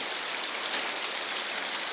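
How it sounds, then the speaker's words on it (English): A small river, part of the Jordan River in old Akko, Israel, flows with a steady, close wash of rushing water and no other sound standing out. "Here, as you can see behind me, is a little river."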